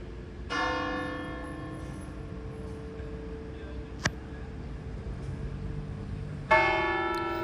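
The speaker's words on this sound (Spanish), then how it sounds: "las campanas de catedrales, parroquias e iglesias tocaban en señal de luto" Church bells at cathedrals, parishes and churches toll in mourning, two loud bell strokes several seconds apart with long ringing decay between them and a faint knock in the middle.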